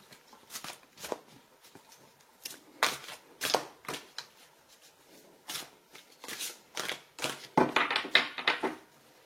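A deck of tarot-style love mastery cards is shuffled and drawn by hand, with close, crisp riffling and slapping bursts repeating steadily and growing busier toward the end.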